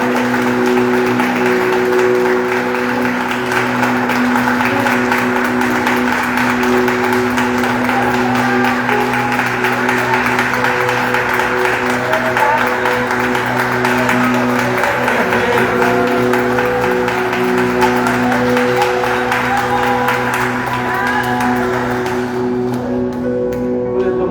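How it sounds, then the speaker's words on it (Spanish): A church congregation applauding in praise to the Lord, a steady, dense wash of clapping that holds for about twenty seconds before thinning out near the end, with a low sustained hum running underneath. "fuerte aplauso al Señor."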